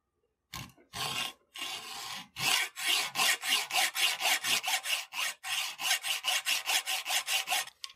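A hacksaw cuts a slit into a 1/4-inch steel rod, a few hesitant strokes and then a fast, regular back-and-forth rhythm of loud, close, harsh rasping.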